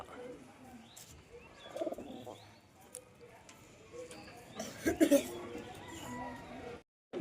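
Kaldom pigeons coo softly in short throaty bursts, with scattered wing flutters and rustling nearby and some quiet human voices in the background.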